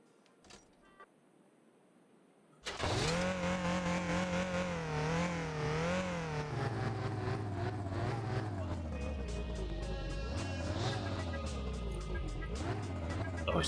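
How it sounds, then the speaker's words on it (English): A car engine in My Winter Car cranks and catches, then settles into a steady idle with a rising and falling rev and a rough, throaty hum that carries on loud and continuous. "Should get the car started and warming up first, though, shouldn't we?"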